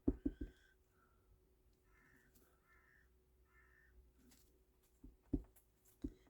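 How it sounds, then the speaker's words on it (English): Crows caw outside a window, a few faint, distant calls in short bursts, with soft close-up taps and thumps of papercraft work at the start and end. "you can hear the birds outside my window"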